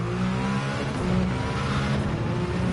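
A race car engine in Gran Turismo 7 holds a steady, loud drone with a rising rev, running continuously and close throughout with no talk.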